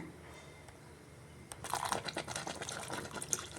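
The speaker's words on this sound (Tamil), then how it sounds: "ஒரு மூணு கப் தண்ணி ஊற்றிருக்கிறேன்" About three cups of water splash and trickle into a pressure cooker after a quiet start, a wet, gurgling pour with a few crunchy clinks, fairly close.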